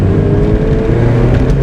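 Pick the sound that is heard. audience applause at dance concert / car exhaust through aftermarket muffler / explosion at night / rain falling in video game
car exhaust through aftermarket muffler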